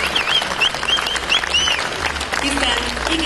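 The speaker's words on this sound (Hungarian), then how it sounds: "még egy taps és egy ováció jár a kitüntetetteknek és az összes végzős diákunknak" A crowd applauds continuously at a Hungarian secondary school graduation ceremony, with dense, even clapping that holds steady from start to end.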